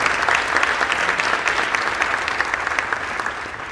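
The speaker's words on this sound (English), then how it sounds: "let's give them all a round of applause" A crowd at Daemen College's announcement of NCAA Division II active member status gives a loud, sustained round of dense applause lasting several seconds, steady throughout with no talking.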